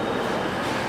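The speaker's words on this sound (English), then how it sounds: "The Whitby train is on platform 1." Train standing at platform 1 for the Scarborough to Whitby service: a loud, steady rumble of engine and carriage noise close by, continuous and even throughout, with no talking.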